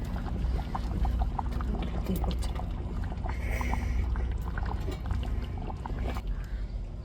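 Spices temper in hot oil for an adal fish curry, a dense, steady sizzle that hisses evenly and close throughout, with no talking over it.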